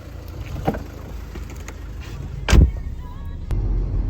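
A car drives through the streets of Kyiv, a low engine and road rumble heard from inside, with a couple of brief louder bumps or passing swells over a few seconds.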